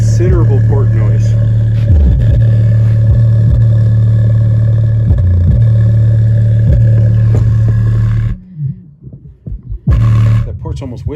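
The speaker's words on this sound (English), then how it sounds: "That port's almost whistling." A compact bass subwoofer enclosure plays loud sustained low tones with chuffing air noise from its port, near and steady, then drops out briefly before resuming.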